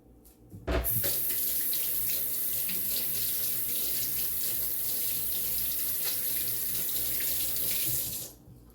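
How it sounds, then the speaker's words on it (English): A kitchen tap gushes steadily as hands are rinsed under it, the water starting abruptly near the beginning, running close and loud for several seconds, then shutting off. "I'm going to rinse my hands."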